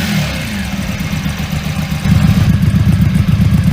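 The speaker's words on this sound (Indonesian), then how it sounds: "knalpot yang bersumber dari mesin V-engine ini diubah dengan knalpot aftermarket" A Keeway 125cc V-twin cruiser motorcycle with an aftermarket exhaust rumbles close by with a pulsing low exhaust beat, idling at first and then revving louder partway through.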